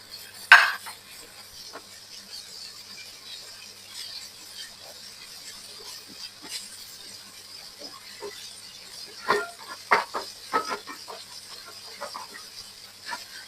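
Onions, garlic and ginger frying in oil are stirred in a pan, with soft scraping and occasional sharp utensil clinks against the metal over a quiet, faint sizzle; the clanks cluster toward the end.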